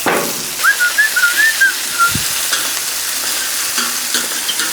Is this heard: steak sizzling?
yes